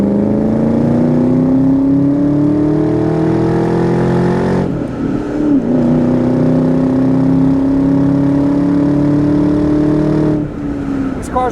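A 1999 Ford Saleen supercharged 4.6 convertible with a five-speed manual is revved through the gears while driving, loud rising engine whine with supercharger tone, dropping at each shift, recorded close.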